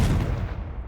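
A Confringo fire spell blast in Hogwarts Legacy on PS5: a short, heavy booming burst, loud and close, its rumble dying away within a second.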